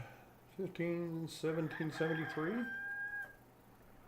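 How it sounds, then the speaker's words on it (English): In the game Enshrouded, a rooster crows once at daytime: a loud, drawn-out cock-a-doodle-doo with a rising then trailing final note over a quiet in-game background. "I can hear the rooster crowing."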